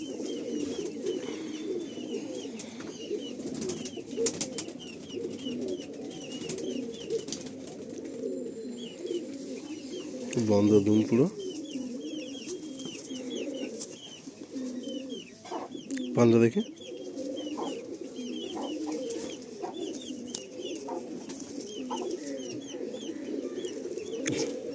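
Male old-line Madrasi pigeon cooing in low, rolling murmurs throughout, close by, with a louder burst of handling or wing noise twice midway while people talk over it.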